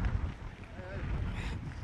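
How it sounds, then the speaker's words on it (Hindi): Strong coastal wind during Cyclone Biparjoy at Mandvi, Gujarat, near boats, roaring steadily as broadband buffeting across the microphone with a voice talking over it throughout. "बहुत तेज़ हवाएं"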